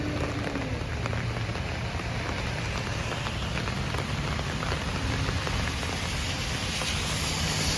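Evening rain in New York pours down steadily, a dense, loud, unbroken hiss of drops striking surfaces and leaves, with no voices over it.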